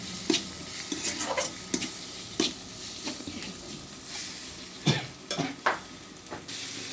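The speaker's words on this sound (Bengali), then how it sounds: "খাদিজা আজকে ডিম ভুনা করছে" Eggs fry in oil for egg bhuna, a steady sizzle beneath repeated sharp scrapes and clinks of a spoon stirring the pan, close and fairly loud with no talking.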